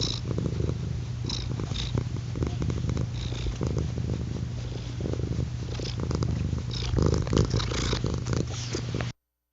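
A black and white cat purrs steadily and close up, a low continuous rumbling with a rhythmic rise and fall, running nearly ten seconds before stopping abruptly.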